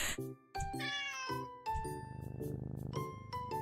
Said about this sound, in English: I closely inspect the tabby cat in front of me.